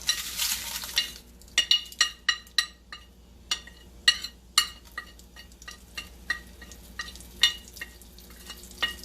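Whole spices and masala for sambhar roast in oil over a medium flame, a soft sizzle under repeated scraping clinks of a spoon stirring against the pan, with no voices.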